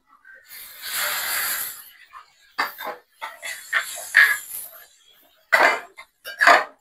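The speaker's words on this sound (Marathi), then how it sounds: "आपण याच्यामध्ये आता गरम दूध ऍड करूया थोडस" Hot milk hits roasted semolina in a pan for suji halwa, setting off a loud, close hissing surge that fades, followed by scattered spoon scrapes, clinks and short bursts of bubbling.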